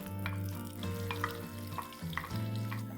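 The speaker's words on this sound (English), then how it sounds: "And we're going to fry this onion paste till it's nice and brown in color." Ground onion paste frying in hot oil in a kadai for pomfret fish curry, a quiet sizzle with occasional stirring clicks and scrapes over a low background hum.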